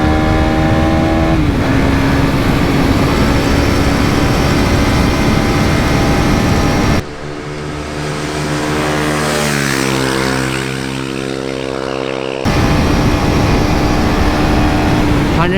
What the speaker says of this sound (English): we did some aggressive downshifting, activated the slipper clutch.